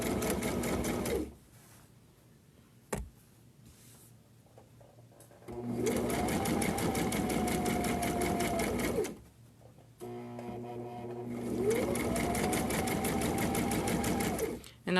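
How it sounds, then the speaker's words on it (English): Sewing machine stitching fabric for a grocery bag holder, running in three bursts of fast rhythmic whirring and clatter separated by quiet pauses, close and clear with no talk over it. "whenever you're sewing, to let the machine pull the fabric through"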